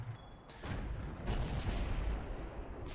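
A tank gun fires in a tank video game with a VK 45.02 (P) Ausf. B, producing deep booming blasts and rumbling bursts at moderate loudness, with a sharp crack near the end and no talk.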